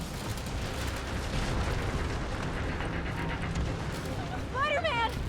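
Bomb blasts rumble through a Marvel's Spider-Man game scene as a sustained low roar of explosions and debris, with rising whistling tones near the end and background voices talking.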